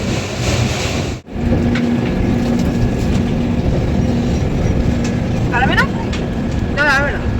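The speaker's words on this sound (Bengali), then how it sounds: "আটটা সাতান্নটা ট্রেন ঢোকার কথা নটায় ঢুকছে ট্রেন" A passenger train pulls into Kashi (Varanasi) station with a steady low rumble and rolling clatter amid station bustle, with a brief dip early on and a few high squeals or horn-like chirps near the end.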